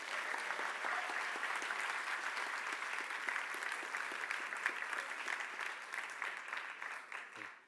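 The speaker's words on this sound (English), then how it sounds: "would you give them a nice round of applause as well?" Steady audience applause fills the room for a volunteer being called up, dense continuous clapping at close range that holds level for several seconds before tapering at the end.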